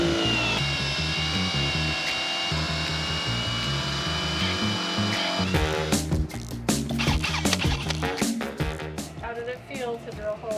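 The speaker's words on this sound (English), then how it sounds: "we do that with a step drill bit, 1 3/8" A drill grinds a 1 3/8 inch hole through a van's metal with a step bit, starting as a steady droning whine, then turning to rough, stuttering bursts as it cuts near.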